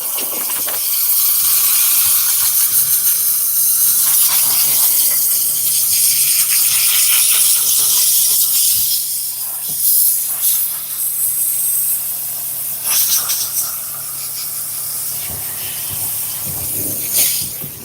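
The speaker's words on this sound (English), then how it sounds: "Then we'll steam it again." A steam cleaner sprays onto leather car upholstery during interior detailing, giving a loud, continuous hiss that surges and dips in strength with brief breaks, heard alone.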